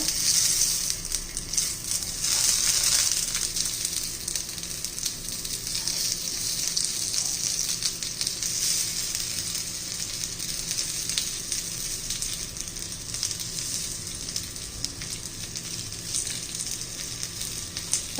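Sliced bitter gourd fries in oil in a pan over medium heat, giving a steady, even sizzle with faint crackles that stays constant the whole time, with no voices.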